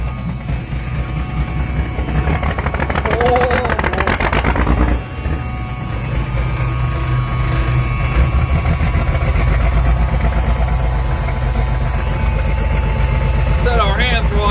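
An old vehicle's engine idles steadily on a hand throttle while warming up in the cold, a continuous mid-low rumble with some knocking vibration throughout, and voices speaking over it.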